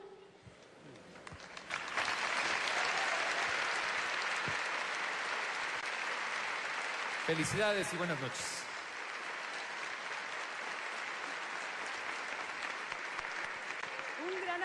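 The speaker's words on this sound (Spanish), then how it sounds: "Aplauso para despedir a nuestra querida Carmelita Salinas" Broad, steady audience applause at an awards ceremony swells after a quiet start and keeps going, with someone briefly speaking over it partway through.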